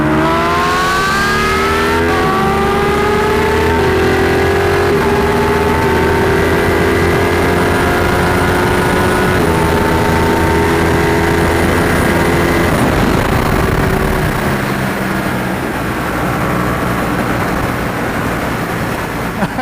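A sport motorcycle, either a Ducati Panigale V4 S Speciale, Panigale 1299 or Kawasaki Ninja H2, accelerating hard in first gear, its loud engine whine climbing steadily in pitch for nearly twenty seconds with one brief shift partway through.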